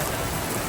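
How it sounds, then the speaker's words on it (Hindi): Heavy rain falling in Madinah, a dense, steady wash of broadband hiss that stays even and loud throughout the short moment, with no clear voices over it. "क्या बारिश लगी हुई है, मज़ेदार बारिश है।"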